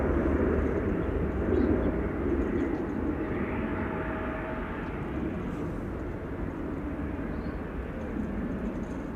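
Airliner engines at Amsterdam Schiphol Airport give a steady, broad roar that fills the whole stretch, loud and constant from a fair distance, with no talk over it.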